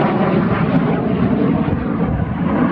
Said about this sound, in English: that's the first time I've seen a plane here.